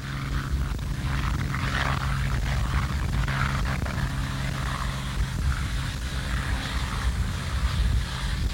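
Small single- or twin-engine propeller aircraft droning steadily at Kotzebue, Alaska, a continuous low engine roar with a broad rushing hiss that holds at a fairly even level throughout, no voices.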